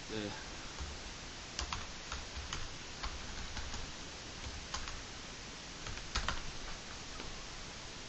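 Computer keyboard keys typed in short irregular bursts as search terms are entered, with clustered clicks close by over a steady room hiss and no talking.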